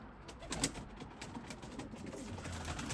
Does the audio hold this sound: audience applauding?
no